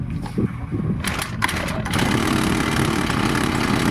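Small Honda GX35 four-stroke engine on a grass cutter runs steadily after a throttle adjustment, a close, loud buzzing drone with a brief uneven rise before settling into an even, continuous run.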